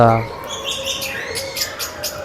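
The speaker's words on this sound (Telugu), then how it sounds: "Indian ring neck parrots" Indian ring-necked parrots call at an exhibition, giving a run of bright, repeated chirps and squawks at moderate loudness over a busy, noisy background.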